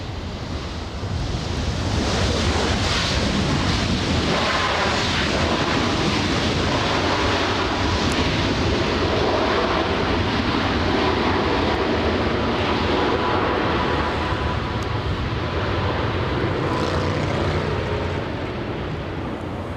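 A Boeing 767-300 airliner moves at Los Angeles airport, producing a broad, steady jet rumble with a wind-like wash that stays loud throughout.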